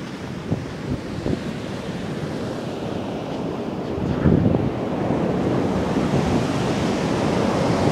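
Continuous broadband surf and wind rush, with waves swelling and breaking close by, a louder surge midway, no voices.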